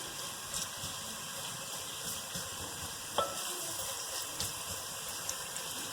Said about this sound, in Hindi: तो मैं इसे फ्राई करती हूँ।